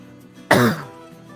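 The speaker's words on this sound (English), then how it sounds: "That was a cough" A single short cough, close and sharp, in an otherwise quiet room with a faint hum in the background, during a Railroads Online game session.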